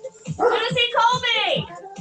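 Dogs yipping and whimpering indoors during a home cardio and stretching workout, short repeated vocal bursts close by and fairly loud.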